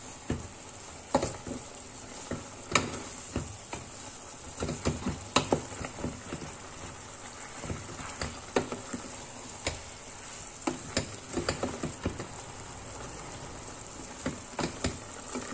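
Chicken adobo with tomatoes simmers in a pan while a utensil stirs it, producing a steady soft sizzle and bubbling under irregular scraping clicks and knocks against the pan, fairly quiet and close, with no talking.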